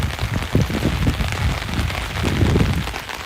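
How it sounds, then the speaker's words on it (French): Heavy rain pours steadily in a dense, close, continuous wash of drops drumming on surfaces, with no pauses. "la pluie c'est hard"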